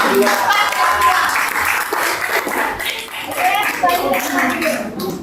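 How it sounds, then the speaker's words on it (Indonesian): A classroom group claps for Group 2 after its presentation: a short burst of dense applause with voices talking over it throughout. "kasih aplaus untuk kelompok 2"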